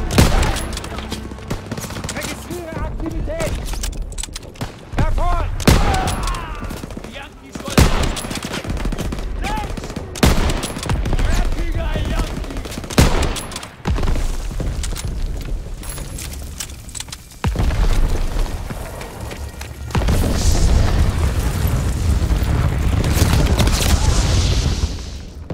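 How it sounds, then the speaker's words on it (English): Artillery blasts and rapid gunfire pound a beach landing in the World War II video game Call of Duty WW2, loud repeated booms and fusillades with shouting voices between them. "Artillery's hitting the beach."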